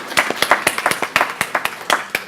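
Sparse, uneven hand claps from a small group at a facial contouring demonstration, about a dozen sharp separate smacks over two seconds, close and moderately loud with no talk over them.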